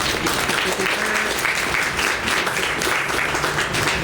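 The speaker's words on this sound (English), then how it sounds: "And so we also give them a round of applause as well." An audience applauds steadily at a Travis County, Texas political event, a loud, dense wash of many hands clapping continuously throughout with some voices faintly mixed in.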